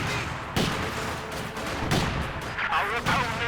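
Gunfire rings out in a Company of Heroes 2 World War II strategy battle, with sharp loud shots and bursts at about half-second intervals over a dense din of combat.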